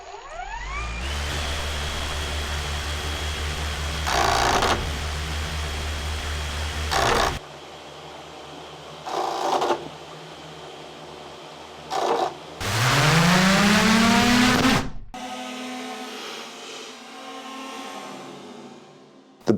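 Drone propellers whine up to speed and spin loudly, with several bursts of higher throttle as the blades gash into a banana, ending in a rising roar and a scraping rattle.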